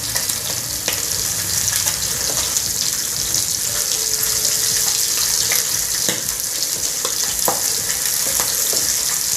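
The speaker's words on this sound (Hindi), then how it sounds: "अब इसके अंदर हम ये मछली सब डाल देंगे।" Fried fish pieces go into a simmering curry in a pan and sizzle loudly, a steady hiss and bubbling with occasional clinks and stirring knocks throughout.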